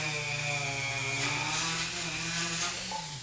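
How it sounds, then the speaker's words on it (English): Regular drum sanding tool cutting into plexiglass, a steady high-pitched whine with a sustained tone running loud and close throughout, no voices. "this is just a regular drum sanding tool. It cuts this plexi pretty good"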